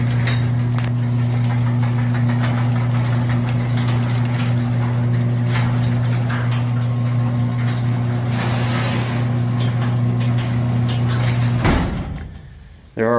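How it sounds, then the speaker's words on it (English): A residential garage door closes with a steady mechanical motor hum and rumble for about twelve seconds, then stops abruptly as the door shuts, followed by a brief clunk. "I'm gonna have to close the garage door to show you this."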